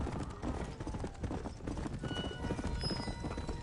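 An undead horse in Red Dead Redemption: Undead Nightmare trots along with steady clip-clopping hooves, a close, continuous rhythmic patter over rumbling background noise.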